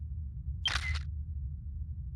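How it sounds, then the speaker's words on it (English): A photo machine in the video game Dragon Quest X snaps its shutter once, a single crisp mechanical click-and-whir lasting about a third of a second over a low, quiet background hum. "Miro Panes took out a special photo machine and snapped the shutter."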